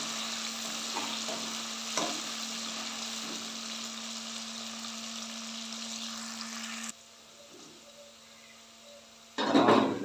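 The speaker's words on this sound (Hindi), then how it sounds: "हमारे प्याजों को हल्का ब्राउन करना है।" Onions frying in oil in a karahi for chicken karahi, a steady close sizzle with occasional stirring scrapes, then a quieter stretch and a sharp burst near the end.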